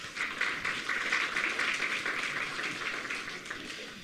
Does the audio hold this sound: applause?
yes